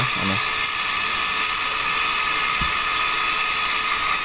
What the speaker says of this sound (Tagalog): Yung blower po natin. Bloweran po natin.